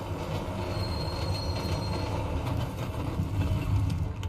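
Metro train ride in Deus Ex Mankind Divided, a steady rumbling rail roar with a faint high wheel squeal, sounding from inside the moving car throughout, with no talk.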